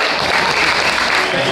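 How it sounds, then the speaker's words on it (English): A crowd at a father-daughter dinner dance bursts into loud, dense applause, a continuous roar of clapping with no single claps standing out. "Give yourself another round of applause"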